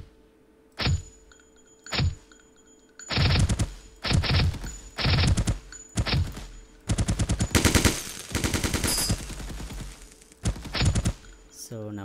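Game gunfire in an Unreal Engine third-person shooter, bullets striking NPC characters and surfaces: isolated shots, then rapid bursts of automatic fire, loud and close, with short gaps between volleys.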